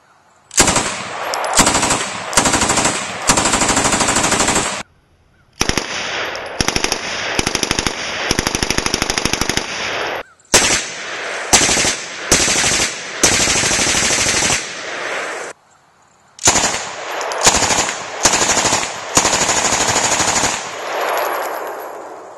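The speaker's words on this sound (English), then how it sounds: "Now we're going to shoot the Mac, see how it goes." Ingram MAC-10 9mm submachine gun firing full-auto at an outdoor range, loud, close rapid bursts of several seconds each, broken by short pauses.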